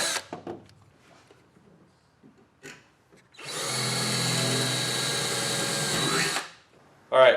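A power drill with a 1/8 inch bit whirs steadily for about three seconds drilling a pilot hole, bracketed by brief handling knocks and soft clicks before and after.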